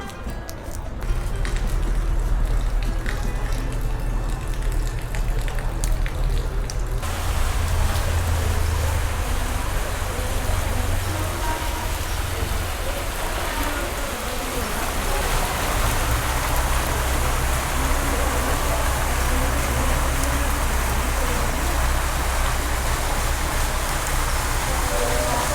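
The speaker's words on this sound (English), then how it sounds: "I prayed that it would stop raining, and it didn't work." Heavy rain pours steadily at a mountain hot spring resort in Colombia, a loud, dense hiss of drops on surfaces with a low rumble underneath, continuous throughout with no talking.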